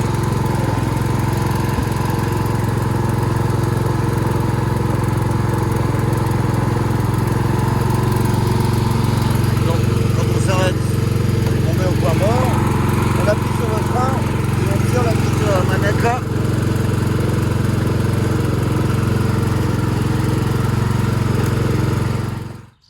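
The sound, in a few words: Jonsered lawn mower engine running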